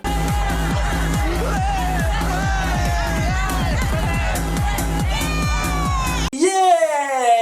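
Cartoon characters shout and whoop together while dancing at a rave in a mall, a loud continuous crowd of yelling voices over pulsing music, ending with a sharp, cat-like wail.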